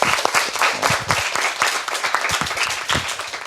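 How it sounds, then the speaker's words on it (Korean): Students at a high school debate event applaud the team representatives with close, vigorous clapping. Individual claps stand out sharply in an uneven rhythm that goes on throughout. "다시 한번 뜨거운 박수 부탁드립니다"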